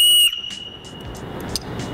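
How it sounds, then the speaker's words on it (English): A storm whistle blown hard gives one loud, piercing, shrill blast lasting about a quarter second, then cuts off to quieter rustling and handling noise. "Just to start off, we have a storm whistle over here. Great for signaling."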